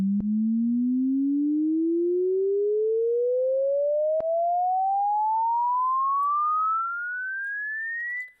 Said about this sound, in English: it kind of sounds like it's getting auto-panned